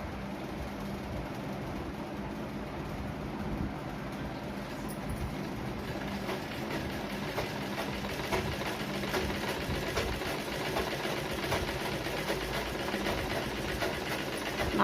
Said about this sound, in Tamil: ஒன்று போல் வச்சு தையல் போடுங்க.